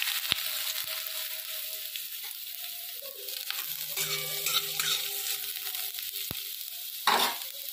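Chopped carrots frying in hot mustard oil in a pan, a fairly quiet hiss with occasional sharp spatula knocks and stirring scrapes, a brief louder crackle near the end, no speech.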